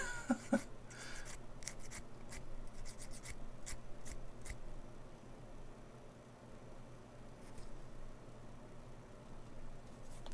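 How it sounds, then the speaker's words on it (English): Short, light scratchy rasps of fine sanding on a small plastic model part, taking off sprue marks in quick irregular strokes, close and quiet, with no talking. "I'm just sanding off the little sprue marks here."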